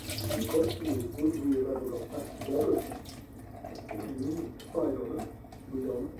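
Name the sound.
water being drained off soaked raisins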